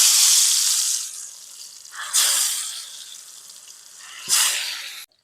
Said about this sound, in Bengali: তেলে দিয়ে দিলাম ভেজে নেওয়ার জন্য।